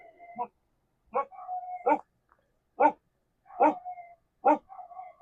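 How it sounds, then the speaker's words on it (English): Several dogs barking indoors, a series of sharp, loud barks and yips in uneven bursts, some drawn into short whines, close to the listener. "and then the dogs start barking"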